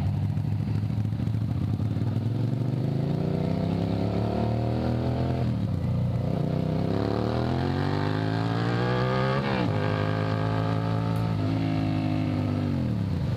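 A motorcycle rides through town, its engine droning steadily and close with rising and falling pitch as it accelerates and shifts gears, heavy wind rumble underneath.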